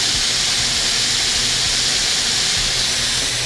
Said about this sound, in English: Now, I'm gonna add a little garlic to my shrimp.